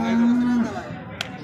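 A cow at a cattle market in Sangola gives one loud, close, sustained moo lasting about half a second. The call then fades into market background noise, with a brief sharp knock near the end.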